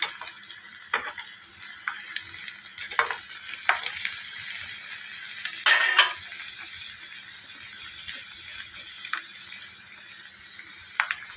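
Egg lobongo lotika pastries frying in oil on a low flame, a soft steady sizzle with scattered sharper pops and crackles, close and without talk.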